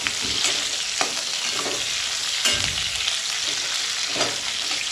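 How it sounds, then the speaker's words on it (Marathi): Chillies sautéing in hot oil with mustard seeds and cumin, a steady close sizzle and frying hiss with small crackles and pops, no talking. "जिरं मोहरी छान तडतडल्यावरती त्याच्यामध्ये कापलेल्या मिरच्या टाकायच्या आणि याला सुद्धा परतवून घ्यायचं आहे काही सेकंदासाठी"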